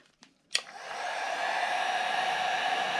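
A heat gun starts with a couple of clicks, then a rising airy whoosh settles into a steady, close blowing roar while it shrinks heat shrink tubing on wires.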